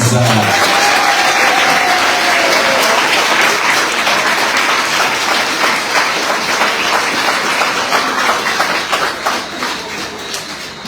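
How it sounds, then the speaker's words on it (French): A crowd applauds cyclist Yolis Pérez at a 2024 Guadeloupe cycling tour presentation, loud sustained clapping from many people that thins out toward the end, with a brief tonal sound at the start. "Mesdames et messieurs, sous vos applaudissements, Yolis Pérez."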